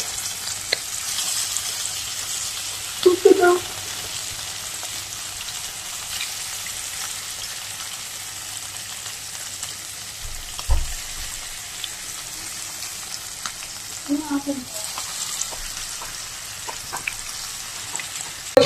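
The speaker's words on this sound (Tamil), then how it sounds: "இதை தொடர்ந்து அம்மா மீன் வறுத்துட்டு இருக்காங்க." Fish, Sankara, frying in a pan of oil for a Sunday fish gravy: a continuous bright sizzle throughout, with a few louder bursts of crackling and an occasional clunk of a utensil, no voices.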